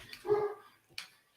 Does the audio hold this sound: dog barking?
yes